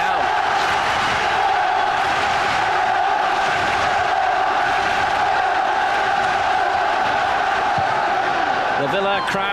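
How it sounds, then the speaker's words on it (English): Aston Villa football crowd roaring and chanting during a 1994-95 UEFA Cup match against Inter, a loud, sustained stadium din with sung, tonal swells that continue without a break. "The Villa crowd try to lift their players for one last final push perhaps"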